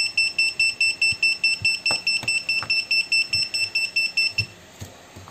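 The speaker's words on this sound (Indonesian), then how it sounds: "Oke, quadnya berisik, saya matiin." Rapid, steady electronic beeping from an MJX quadcopter drone as it is switched off, a run of about twenty close, sharp tones at a fixed pitch that stop near the end, with faint handling taps beneath.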